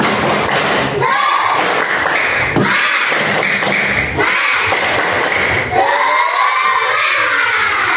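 A children's class performs the rhythmic 'tepuk semangat' clapping chant. Groups of claps and thumps come in a patterned beat, mixed with loud, close shouting of the chant by many young voices.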